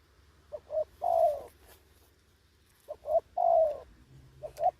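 A spotted dove coos in repeated short phrases, two clear bursts of soft, hollow calls with a pause between, fairly close against a quiet background.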